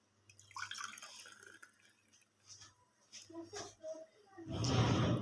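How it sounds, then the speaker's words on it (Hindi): Carrot and sweet lime juice poured into cups: small drips and splashes with soft voices in the background, ending in a louder, fuller pour. "इनके कप्स में मैंने डाल दिए हैं जूस"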